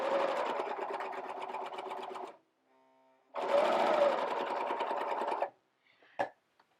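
Sewing machine with a chain looper thread stitching starter fabric: two loud, steady whirring runs of about two seconds each, separated by a short pause, then a single sharp click at the end.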